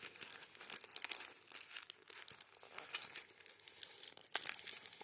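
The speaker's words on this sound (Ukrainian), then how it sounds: "распакуем важный пакетик" Close, quiet crinkling and rustling of thin plastic as a packet is pulled open, with a few sharp tearing crackles.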